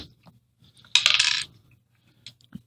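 Dice tumble onto a tabletop in one short clattering burst of about half a second, close and crisp, with a few faint ticks afterward and otherwise near silence.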